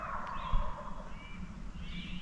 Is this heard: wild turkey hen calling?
yes